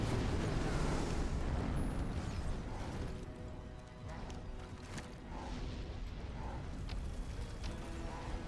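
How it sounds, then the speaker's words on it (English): A Cluster Explosion spell in the strategy game Battleforge sets off a dense, sustained roar of blasts and rumbling debris that stays loud and steady throughout, with scattered sharper cracks. "We're going to summon a Cluster Explosion to try to get rid of all these guys."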